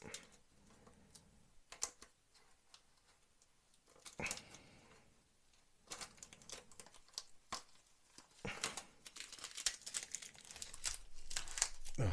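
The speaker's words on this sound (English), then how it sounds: "Unmasking is actually a pain in the rear, to be honest with you, but very, very satisfactory, satisfying" Masking tape is peeled off a Revell 1/48 PBY-5 Catalina plastic model aircraft kit, giving quiet, close crinkling and tearing sounds in irregular short bursts that grow busier toward the end.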